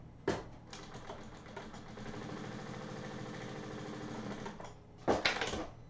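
A sewing machine runs in one continuous buzzing burst, stitching a bar tack on a fabric card holder, with short clunks at the start and end.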